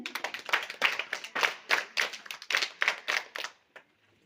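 School audience applauding quiz winners, quick sharp hand claps in a dense rhythmic run that holds steady for a few seconds then stops abruptly, close and moderately loud.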